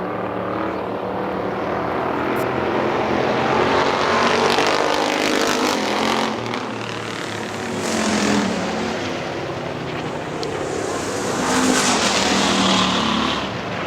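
Factory stock race cars roar around Hartford Speedway, engines rising and falling in loud swelling passes as they run through turn two and down the back straightaway, with a track announcer faintly audible beneath.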